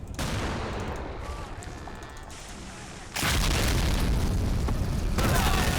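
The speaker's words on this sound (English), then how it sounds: "Those goddamn mortars" Mortar blasts and gunfire from Men of War: Assault Squad, in an invasion of mainland Japan battle, form a dense, continuous roar of booms and shots that grows louder and heavier midway through.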